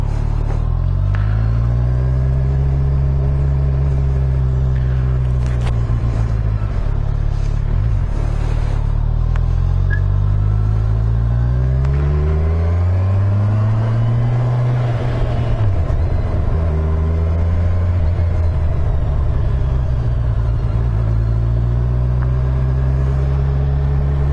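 A 2017 Kawasaki Z1000SX motorcycle engine drones loudly and close on an open road. Its revs rise and fall smoothly several times over a steady, continuous rumble, with no talking.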